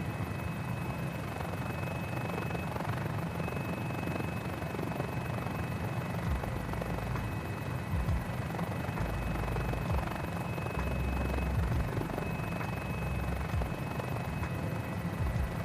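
Steady, continuous rotor and engine drone of a GotFriends Mini-500 helicopter flown in a flight simulator over Los Angeles, loud and unbroken throughout with a constant high whine and low thumping, no talking.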